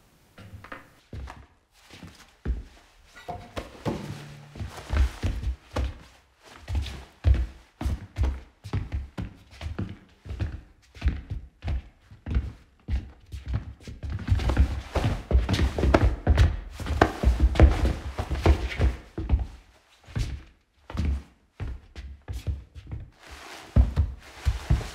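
Foley effects performed in a film post-production studio by a foley artist: a dense series of close thuds, taps, chopping-like knocks and footstep-like steps, irregular and growing busier and louder toward the end, with no talk.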